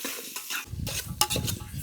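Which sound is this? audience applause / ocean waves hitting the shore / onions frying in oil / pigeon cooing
onions frying in oil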